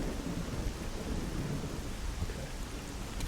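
Steady heavy rain with rumbling thunder in a stormy outdoor area of the S.T.A.L.K.E.R. video game, a dense continuous roar with no voices.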